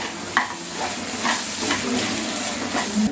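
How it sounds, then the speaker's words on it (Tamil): Spices, chilli powder, pepper and ginger garlic paste sautéing in a pan for a dhaba-style Peshwari mutton gravy, with steady sizzling and repeated stirring scrapes close by, no talk. "இது 3த்தையும் போட்டு நல்லா வதக்கி விட்டுருங்க."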